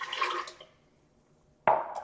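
Water poured into a blender for homemade plant-based milk: a short splashing pour that fades, a moment of quiet, then a sudden second gush of liquid, close by with no talking.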